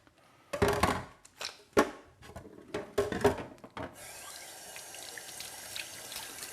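Parts of an Oscar juicer clatter and knock as they are handled, then water from a sink tap runs steadily to rinse them, a close continuous stream with no voices.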